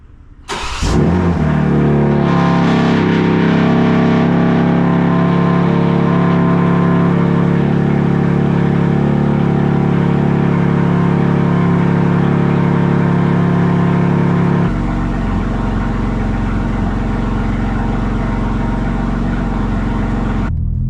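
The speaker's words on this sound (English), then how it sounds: "So that was a cold start with the valves open with the Arms Midpipe and crossover pipe from Arms." A 2025 BMW M4 Competition with downpipes, midpipe, crossover pipe and M Performance exhaust cranks and catches, valves open, roars up to a loud, high cold-start idle with a throaty exhaust, then drops to a lower, rumbling idle.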